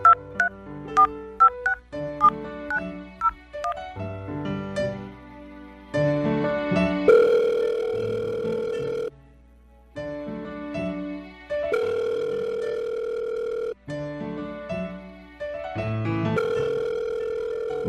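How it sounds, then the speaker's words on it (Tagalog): A cellphone dials out with a quick run of keypad tones, then a repeating ringback tone sounds in bursts with short gaps between them. The tones are clear and alone, with no talk over them. "O sige, susubukan ko siyang tawagan ulit."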